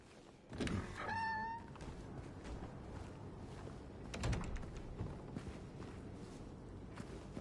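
A cat gives a single clear meow in the Silent Hill 2 Remake. Soft footsteps and faint thuds follow quietly in the background.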